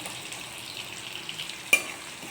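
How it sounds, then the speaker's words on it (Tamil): Cumin, mustard seeds, garlic and shallots fry in oil for a rock fish curry, giving a faint steady crackle and sizzle. A brief sharp clink comes near the end. "இது எல்லாம் போட்டு கொஞ்சம் பொறிஞ்சு வர்ற டயத்தில் பூண்டு போட்டுக்கோங்க"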